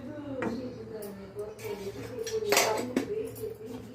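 Egg fried rice scooped onto a plate, with metal utensils clinking and scraping against dishware in several short bursts while a voice talks over the clatter.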